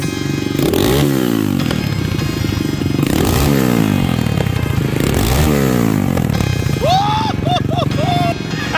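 A Lifan 140cc racing engine on an SSR 110 pit bike revs repeatedly, rising and falling in sweeping bursts, loud and close, with brief high squeaky sounds near the end.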